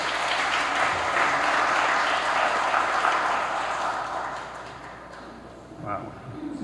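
An audience gives a loud, dense round of applause to welcome a speaker at a formal legal conference. The clapping fades after about four seconds, and a voice begins talking.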